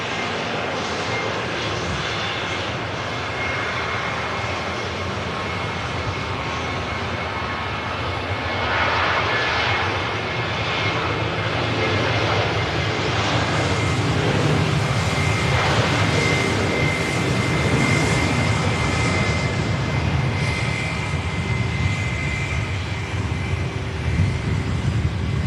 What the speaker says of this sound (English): Lufthansa A321 on the way past